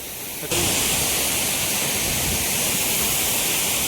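Ranpat waterfall in Konkan roars close by, a loud broad rush of falling water that starts abruptly and continues steadily without a break.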